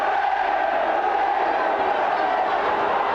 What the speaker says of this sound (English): And the big chant coming from the crowd now